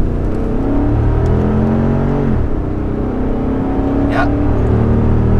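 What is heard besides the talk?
Lexus GX 460 engine revving with throttle response controller at 100%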